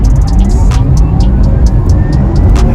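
A Porsche Taycan Turbo S in sport mode launches through a 0-60 sprint, heard from inside as a loud, steady low rumble of road and motor noise with faint intermittent clicks, no speech.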